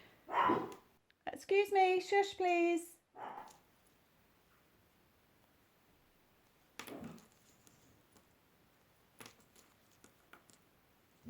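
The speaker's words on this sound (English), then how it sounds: "That's my dog making very odd noises out in the hallway." Pet dogs in a hallway give odd, whimpering bark-like noises in a burst early on, close and fairly loud, followed by quieter sporadic sounds while a person speaks.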